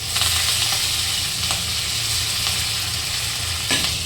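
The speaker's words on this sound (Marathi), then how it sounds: "आता एका साईडला कढीपत्ता टाकून घेऊ" Curry leaves drop into hot oil in a pan while cooking a pea and potato vegetable dish, giving a steady, close, loud sizzle and hiss with occasional crackling pops.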